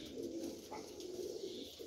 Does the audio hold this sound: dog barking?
no